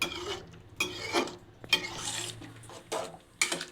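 A spoon scrapes and clanks around a metal pot of rice and hot water for chicken biryani in repeated stirring strokes, close and fairly loud, with no talking.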